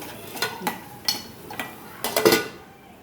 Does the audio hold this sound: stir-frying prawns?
yes